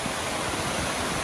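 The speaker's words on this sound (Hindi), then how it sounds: "पानी का शोर होगा" Glacier meltwater rushes down from the mountain in a stream in the Swat valley, a dense, steady roar of churning water heard close and alone.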